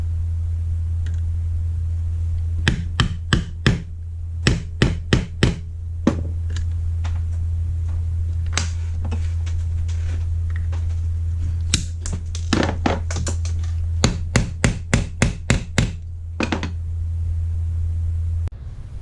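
Sharp hammer strikes set brass rivets through a leather hatchet sheath, arriving in quick clusters of taps with pauses between, close and crisp over a constant low hum.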